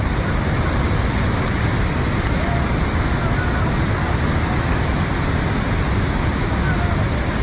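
Floodwater rushes loudly down a swollen Chandigarh nala stream in Kullu, a dense, constant roar of churning water close by with no break.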